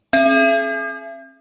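A single bright bell ding strikes sharply and rings out with a clear metallic tone, decaying slowly over about a second, alone and fairly loud, used as a notification chime.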